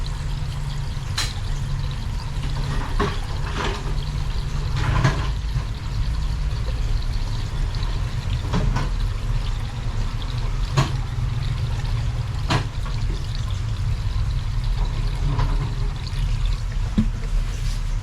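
Coolant pours into a car's overheating cooling system in a steady trickling stream with low rumble beneath and occasional clicks, no talk.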